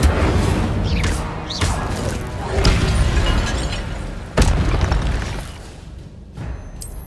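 Incendio fire spells cast in Hogwarts Legacy on PS5, loud bursting whooshes and booming thuds in repeated bursts over a dense, crashing combat backdrop.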